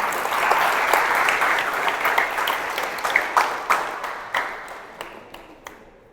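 A church congregation applauds steadily, loud and dense at first, then thinning into scattered individual claps as it fades out.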